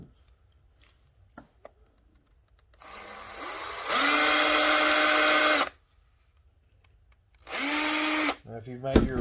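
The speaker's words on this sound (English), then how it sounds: "Then I'm going to bore it out a little bit, just wiggle the bit." Small power drill boring out a hole in a homemade wooden crankbait lure, two whining bursts of a couple of seconds each separated by quiet, with faint handling clicks before.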